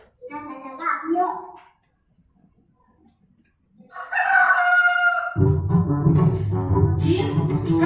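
Rooster crowing, first a clear drawn-out cock-a-doodle-doo, then after a pause a second louder crow joined by clucking chickens and a low rumbling background.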